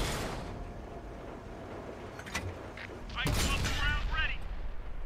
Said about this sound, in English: I'm actually firing HESH rounds